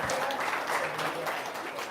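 An audience claps together, a short burst of dense, steady applause heard close and fairly loud from start to finish.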